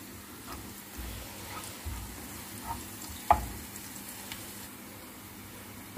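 Garlic and shallots stir-fry in a pan for a macaroni vegetable soup, giving a faint, steady sizzle with a few soft clicks of stirring and no voices.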